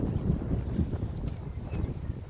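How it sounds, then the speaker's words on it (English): Strong wind on an open golf course buffets the microphone, producing loud, gusty low rumbling that fluctuates throughout. "it is quite windy. Well, it is windy, but I'm walking into headwinds."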